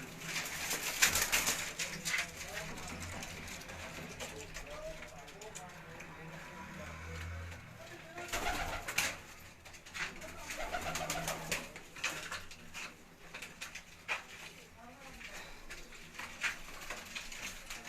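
Racing pigeons coo on a loft roof in Gujranwala, soft repeated calls with a few wing flaps, heard close under someone talking.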